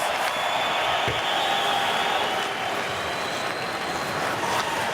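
Ice hockey arena crowd during an NHL game between the Vancouver Canucks and Edmonton Oilers, a steady dense roar of cheering and noise filling the whole stretch.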